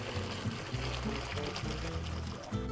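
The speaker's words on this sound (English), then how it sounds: "So I'm gonna drain the pasta." Cooked penne is tipped into a strainer, water pouring and gurgling steadily and loudly for a few seconds with a low rumble beneath.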